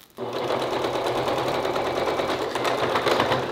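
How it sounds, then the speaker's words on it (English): A sewing machine stitching along the top of a folded, ironed quarter-inch hem in fabric for a bedroom curtain, a close, steady whirring rattle that starts suddenly and runs without a break. "I can just sew right along the top."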